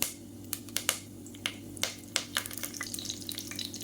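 Curry leaves and fennel seeds dropped into hot oil in a pressure cooker, giving sharp crackling pops at irregular intervals over a steady low sizzle, close and moderately loud with no talking.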